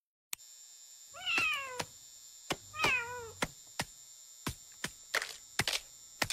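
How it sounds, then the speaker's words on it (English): A cat meows twice with rising and falling cries. Sharp clicks and knocks follow, all against a steady faint hum. "It was take your cat to work day."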